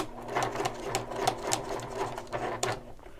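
A sewing machine runs a reinforcing pass over the first seam of a shoulder bag. The stitching is steady, rhythmic and moderately quiet, with regular thumps throughout.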